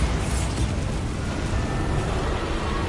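Bombarda spell explosion in the game Hogwarts Legacy, a dense, loud rumbling blast that roars continuously for a few seconds with broadband crackle and no voices.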